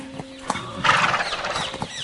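Horse in a storybook scene, hooves clopping in short knocks around a brief, bright neigh, fairly close and alone.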